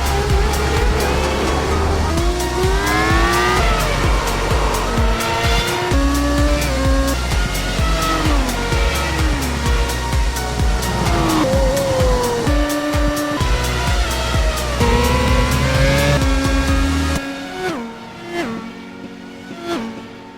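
Race cars in the iRacing World Championship Grand Prix Series at COTA pour into turn one, with loud, layered engine wails rising and falling and brief tire squeals before the field thins out near the end.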